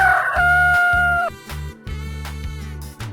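Rooster crowing loudly and close, one long drawn-out call followed by a few shorter clucking and rustling sounds.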